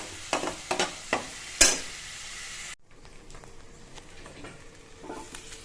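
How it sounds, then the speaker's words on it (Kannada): Dosa cooking on a hot pan, with a few sharp clicks and scrapes of a spatula over a low hiss early on, then a quieter, steady sizzle with faint ticks. "ದೋಸೆ ಹಾಕಿದ್ದೀವಿ ಮತ್ತು ತರಕಾರಿ ಸಾಗು"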